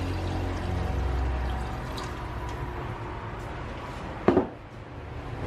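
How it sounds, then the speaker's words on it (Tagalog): Water pours steadily into a cooking pot for spicy sotanghon vermicelli soup, a continuous splashing fill for about four seconds, then a sharp knock and quieter kitchen sounds. "we have to add at least 6 glasses of water for this vermicelli to be cooked"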